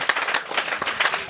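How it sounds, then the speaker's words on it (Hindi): Audience applause at a coaching centre celebration, a short burst of dense, steady clapping from a roomful of people, loud and close with no talk over it. "चलिए एक बार जोरदार ताली बजा दीजिए सर लोग"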